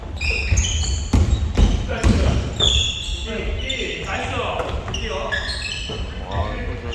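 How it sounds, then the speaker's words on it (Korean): A ball bouncing repeatedly on an indoor floor, a series of dull thumps at an irregular rhythm, mixed with chatter and excited voices talking over it in a busy room. "공 튀기지 마세요."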